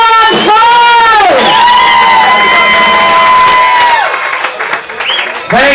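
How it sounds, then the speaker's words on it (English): At a live band show, a crowd cheers loudly, with long high whoops and shouted voices rising over steady clapping near the microphone before fading slightly. "Let's hear a huge round of applause, everybody, one more time!"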